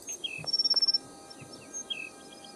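Blue bird of paradise calling in the Sherlock Holmes Nemesis video game: a quiet rapid burst of repeated chirping notes followed by a few thin whistled calls against faint ambience.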